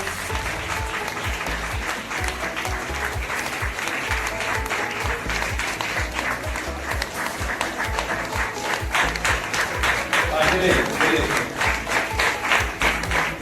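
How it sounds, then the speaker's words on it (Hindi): Church congregation at a prayer-house opening clapping hands in thanks to God, a loud, continuous rapid applause that swells slightly toward the end, with faint voices underneath. "ताली बजाकर प्रभु को धन्यवाद करें।"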